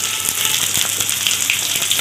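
Pointed gourd (potol) sizzles steadily in hot mustard oil in a pan, a close, continuous crackling hiss with small spattering pops.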